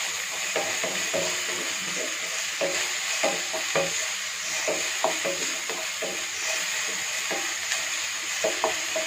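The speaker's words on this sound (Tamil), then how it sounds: "பூண்டு, இஞ்சி, தக்காளி. ஸோ இதையும் நம்ம ஃப்ரை பண்ணிக்கலாம்" Chopped garlic, ginger and tomato frying in a pan for a ragi soup, a steady sizzle broken by frequent soft scraping and tapping strokes of a spoon, close and continuous.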